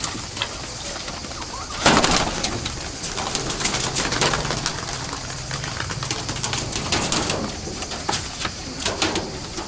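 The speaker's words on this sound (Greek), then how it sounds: "Τα πουλιά που βλέπατε είναι όλα πιτσούνια." Pigeons at a pigeon gathering in Volos give soft coos and fluttering calls over a steady outdoor wash of crowd noise, with scattered clapping and a brief louder burst early on.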